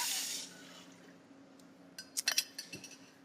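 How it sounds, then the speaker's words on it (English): Beef stock poured into a stew pot of hamburger stew, a soft liquid rush at first, then a few quick clinks and splashy drips, close by and fairly quiet. "I'm going to add my beef stock"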